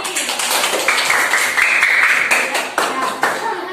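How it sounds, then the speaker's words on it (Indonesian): Classroom clapping for a pupil during a fourth-grade religious history lesson, a run of fairly close hand claps that swells briefly and then thins into separate claps, with a voice talking over parts of it. "kasih tepuk tangan dong Mbak Evi"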